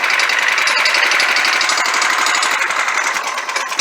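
A Predator 301 engine on a Trailmaster MB200 mini bike runs at a rough, rapid putter, loud and close throughout with a continuous rattling beat.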